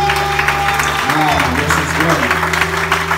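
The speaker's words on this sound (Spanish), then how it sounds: "Junta las palmas y den un aplauso fuerte a Cristo." Church congregation clapping together during a worship service at a supernatural congress, a dense steady wash of applause that runs the whole time under someone speaking and music playing.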